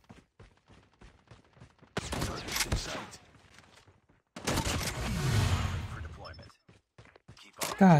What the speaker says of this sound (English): This shotgun's actually insane.